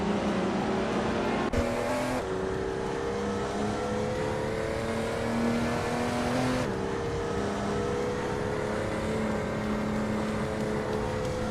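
Racing cars, including older Porsche 911s and Toyota Supras, lap a track with tight corners and a long straightaway; a steady, loud engine drone rises and falls in pitch as cars pass, with no talking.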